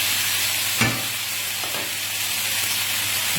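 Beef pieces for stroganoff fry in a hot pan with a steady, broad sizzle and hiss, close-up, with one brief clatter of stirring; no voices.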